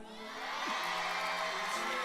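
A church congregation cheers and whoops in a steady, rising wash of voices that swells within the first half second and then holds throughout, moderately distant.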